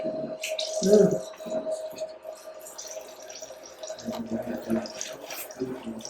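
Water runs from a hose or tap to wash a wound on a rescued Belgian draft horse, a soft splashing and trickling that rises and falls, with people talking intermittently.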